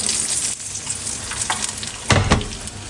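Floured sea bream fillets frying gently in a pan over medium heat, a close, steady crackling sizzle with a brief louder spatter near the end, no voices.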